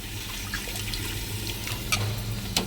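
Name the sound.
water being poured into pulp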